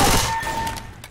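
Shotgun fire at close range against special infected in Left 4 Dead, a loud dense burst of blasts opening the moment and decaying over about a second, with no voices.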